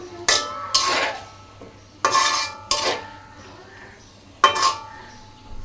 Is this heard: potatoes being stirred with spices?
yes